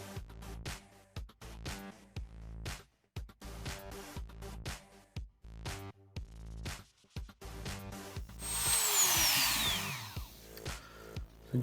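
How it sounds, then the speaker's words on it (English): A Dremel rotary tool spinning a very soft wire brush against a small Hot Wheels VW Golf die-cast car, buzzing in short on-off bursts with a sustained, rising whine near the end. "So we're gonna hit it with the Dremel with a soft wire brush"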